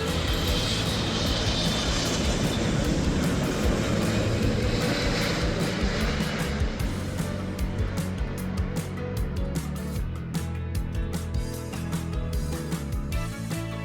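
An airplane near San Diego airport roars loudly and steadily close overhead, a broad engine rumble that slowly thins out as it passes.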